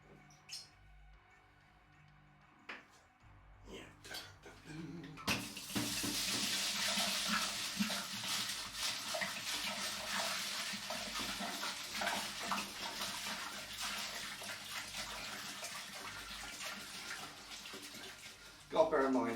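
Homemade distilled spirit splashes and pours steadily into a container, a continuous close liquid rush that starts after a few quiet seconds of faint handling sounds and runs to the end.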